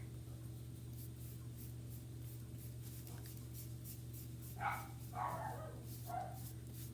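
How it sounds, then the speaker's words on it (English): A small puppy barks a few times from upstairs, faint and distant, in three short bursts over a steady low indoor hum. "my little puppy upstairs he's barking"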